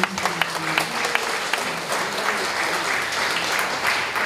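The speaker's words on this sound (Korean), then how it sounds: "한번 박수 한번 드려주세요" Congregation at a summer revival service applauds for a pastor, steady dense clapping held throughout with a few sharper claps near the start.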